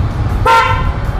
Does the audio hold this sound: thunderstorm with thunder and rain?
no